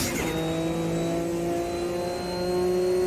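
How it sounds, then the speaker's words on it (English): Porsche 962C race car in the Automobilista 2 sim at Daytona, a steady loud turbo engine drone holding at high speed with a hissing, whooshing blow-off valve burst near the start. "I just love the blow-off valve on this car though."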